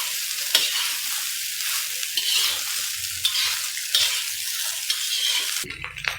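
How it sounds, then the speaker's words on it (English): Prawn fried rice sizzles steadily in a hot pan while a utensil scrapes and stirs it in repeated strokes, close and fairly loud, with a brief clatter at the very end. "Fry the rice properly"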